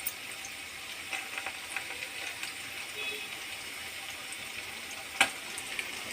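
Bitter gourd pieces frying in a pan for pickle, a steady soft sizzle with occasional scraping clicks of stirring, one sharper knock near the end; no talking.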